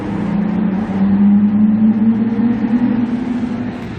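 Heard from inside the cabin, a Nissan Altima's VQ35 engine with a Magnaflow resonator drones loud and steady through a tunnel, a low humming tone rising slightly as it pulls.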